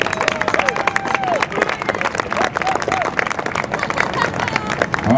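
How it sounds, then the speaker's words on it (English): Wedding reception guests clap for a best-man toast, a dense patter of many hands filling the room with crowd chatter and a few cheers mixed in, steady for several seconds. "All right, how about a round of applause for Brian?"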